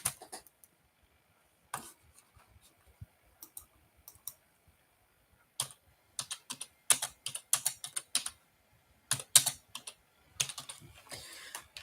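Bursts of clacky keystrokes on a computer keyboard, close and crisp, coming in irregular flurries separated by quiet pauses.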